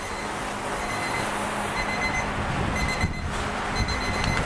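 A kitchen timer alarm rings steadily throughout while flatiron steak sears hot and fast on a grill grate, the electronic beeping tones sitting over a continuous sizzle and background clatter, with no talking.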